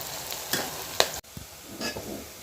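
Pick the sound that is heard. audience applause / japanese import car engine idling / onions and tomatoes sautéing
onions and tomatoes sautéing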